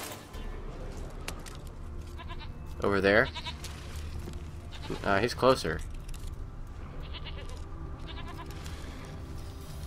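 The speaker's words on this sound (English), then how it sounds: "I hear a goat." Goat bleats in The Witcher 3: Wild Hunt, two short bursts a few seconds apart, moderately close, under game ambience with a person talking over it.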